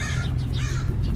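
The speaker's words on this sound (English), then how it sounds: "There's a couple of crows." A couple of crows caw outdoors, a dense harsh cawing that fills the short moment at close to moderate distance, with no talk over it.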